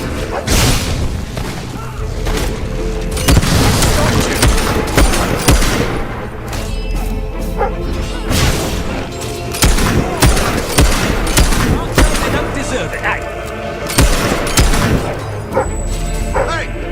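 Battle gunfire in the Fable III video game, dense bursts of shots and booming blasts rolling on continuously, loud and close, with shouting voices over the top.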